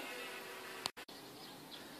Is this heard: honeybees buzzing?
yes